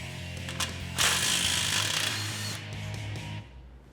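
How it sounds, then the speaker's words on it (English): A 19mm socket wrench on a castle nut, working on a Jeep Wrangler YJ suspension, gives a steady ratcheting mechanical whir up close for most of the clip, starting quietly and swelling after a second before dying away near the end. "19mm socket, taking the castle nut off."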